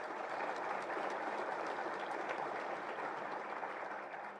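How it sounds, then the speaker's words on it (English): Audience applause fills a luncheon hall at a chamber of commerce education event, a steady dense wash of many hands clapping at even loudness throughout, with no voices over it. "Give yourselves and these folks a round of applause"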